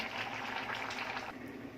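Water bubbles and hisses softly in a pot, a faint, continuous simmering sound with no talking.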